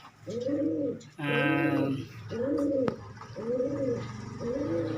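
Pigeons coo close by in repeated, rounded, throaty phrases, about four in a row, with a brief burst of higher chirping in between.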